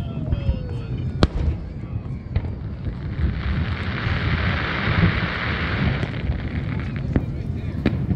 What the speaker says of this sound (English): These are some of the highlights of what the fireworks looked like from the ground.